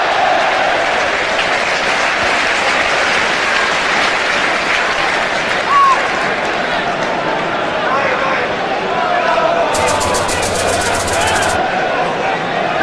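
A large football crowd at Upton Park for West Ham United against Blackburn Rovers applauds in sustained, roaring waves, with a commentator's voice speaking over the clapping and cheering.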